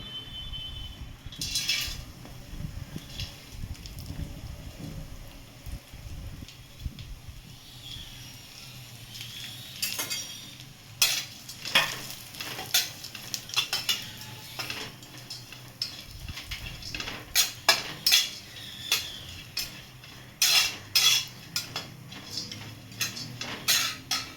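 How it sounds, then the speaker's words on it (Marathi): Dry fruits and seeds roasting in ghee in a pan, heard as a quiet background sizzle with bursts of sharp clinks and rattles of a spoon against the metal pan that grow busier toward the end, close by with no talking. "थोडंसं तूप टाकून सगळे ड्रायफ्रूट्स भाजून घ्यायचे आहेत"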